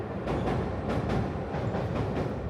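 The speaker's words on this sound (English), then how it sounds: "the view of the train going past this marina was also lovely" Colorful Medetai train on the Kada Line in Wakayama passing a marina, a steady rumble with rhythmic clickety-clack of wheels over rail joints, fairly close, no talking.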